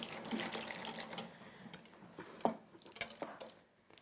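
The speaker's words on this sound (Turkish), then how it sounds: "Ona su da ilave edelim." Water poured into a pot of summer soup on a home stove, a soft, faint splashing trickle with a few light clinks of a spoon or pot, quiet and close.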